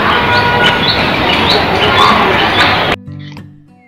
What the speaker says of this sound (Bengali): আর সাথে পাখির ডাক,